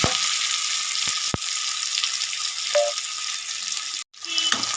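Small fish frying in oil in a pan give off a steady, close sizzle the whole way through, broken by a few faint clinks and a brief dip near the end.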